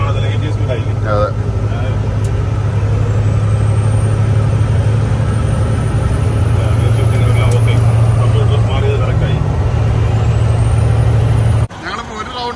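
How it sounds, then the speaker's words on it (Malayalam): An 18-speed manual truck cruises at speed on the road, a loud steady diesel drone with wind and road rumble, a brief air hiss near the end, under someone talking. "18 ഗിയറിൽ 18 സ്പീഡിൽ നമ്മൾ പോയിക്കൊണ്ടിരിക്കുകയാണ്"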